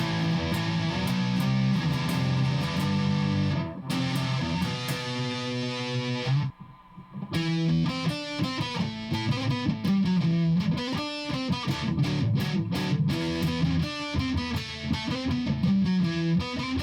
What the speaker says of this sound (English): For even more gain, we have an ultra metal distortion on the neck.